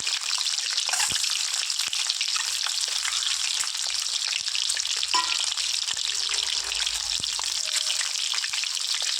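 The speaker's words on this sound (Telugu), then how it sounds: "దీన్ని స్లోగా ఇలా ఫ్రై చేస్తాము ఈ విధంగా లైట్ గోల్డెన్ బ్రౌన్ కలర్ వచ్చే వరకు" Eggs for a restaurant-style egg masala curry fry slowly in a pan toward light golden brown, with a loud continuous sizzle and crackle throughout and no voices.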